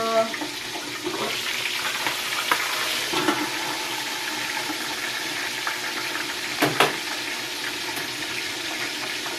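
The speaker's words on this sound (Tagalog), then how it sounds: "Dahan na tayo magbangus kasi tumatalsik." Milkfish (bangus) frying in a pan of hot oil, a steady broadband sizzle with scattered sharp pops and splatters, one louder crackling burst near the middle, no voices.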